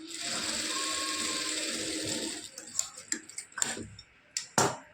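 A sewing machine runs in a steady, close rattling hum for about two seconds while stitching the shoulder of a silk blouse, then stops, leaving brief handling clicks and knocks.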